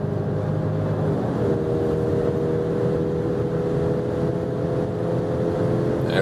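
A car in sports mode accelerates hard from about 90 km/h, its engine note rising in a steady, droning tone over road and wind rumble, heard from inside the cabin.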